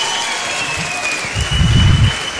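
A live hip hop concert audience applauds and cheers, a broad wash of clapping that swells louder in the second half of the short burst.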